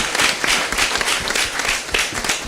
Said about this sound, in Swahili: Tumpigeni makofi.